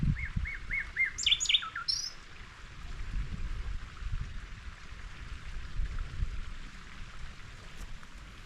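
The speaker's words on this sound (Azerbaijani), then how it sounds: "quşun səsinə bax." Small birds chirp and tweet in quick repeated calls early on over a steady rain-like hiss in a remote mountain village in Ismayilli, with low rumbles underneath and no talking.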